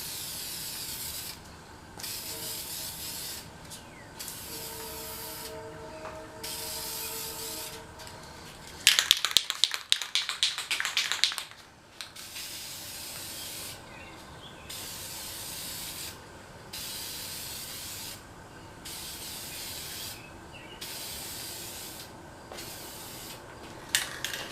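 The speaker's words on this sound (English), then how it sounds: "start spraying before you hit it and finish off of it" Short bursts of aerosol spray as VHT Niteshade tint is misted onto a curved car taillight, a rhythmic series of close hissing passes separated by brief pauses, with a louder rattling clatter midway.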